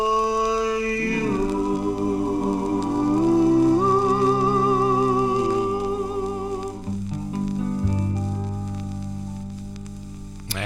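A 1953 doo-wop record on the Red Robin label, sustained vocal harmonies over a soft backing with light surface crackle, a held chord swelling and shifting before a lower final note.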